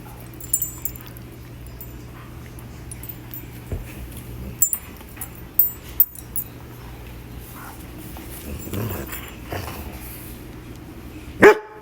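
A black Labrador puppy gives scattered short barks, yips and whimpers indoors, close by, with pauses of near quiet between bursts and a sharp final yelp.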